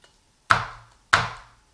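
Two sharp, loud thwacks of a knife blade smashing garlic cloves flat on a board, evenly spaced about half a second apart, each with a short ringing decay.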